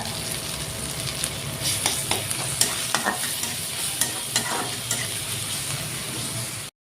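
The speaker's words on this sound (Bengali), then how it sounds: "দিয়ে দিব গোটা গরম মশলা, লং, এলাচি, দারচিনি। ভালো করে ভাজা নিব।" Whole garam masala, cloves, cardamom, cinnamon and chopped onion fry in oil with a constant hiss, punctuated by a series of sharp spatula scrapes and stirring clicks, close and alone.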